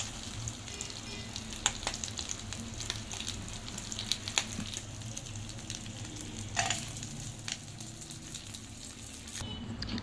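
Meat frying in a hot pan with its own fat, a steady close sizzle and crackle that runs the whole time, with occasional louder spits and the scrape of stirring.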